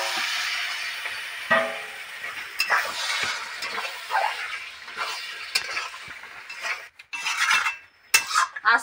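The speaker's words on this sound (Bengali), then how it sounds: "এবার মটনটা দিয়ে দিচ্ছি।" Mutton tipped into a pot of fried spices: bursts of sizzling mixed with a utensil scraping and clanking against the pot, irregular and close, ending in a louder clatter.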